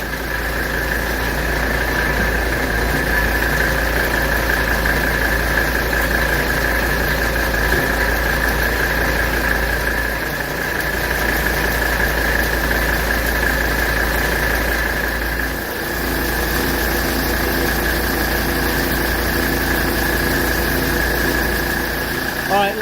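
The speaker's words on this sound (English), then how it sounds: "Our compressor just kicked on." A 1985 Mercedes 300TD diesel engine runs steadily at close range with its air-conditioning compressor engaged, a loud continuous drone with a sustained tonal whine and a brief dip midway.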